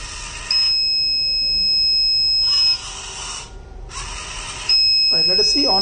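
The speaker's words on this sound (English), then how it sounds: "if any metal detects, then it will give the audible alerts" A metal-detecting surveillance robot built on an ESP32-CAM sounds a loud, shrill electronic buzzer alert in long sustained tones with short gaps between them, over steady background hum. A person starts talking at the very end.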